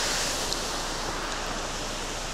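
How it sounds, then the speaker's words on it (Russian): Rain falls outside during a wet thaw in Sochi, a steady, even hiss of water that stays constant throughout, with no talking. "дождь такой нормальный"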